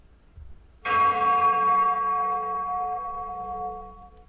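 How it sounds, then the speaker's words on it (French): A single church bell is struck once after a moment of quiet. Its bright ringing tone then hangs in the air and slowly fades. "je suis partie de l'enregistrement de ce son de cloche"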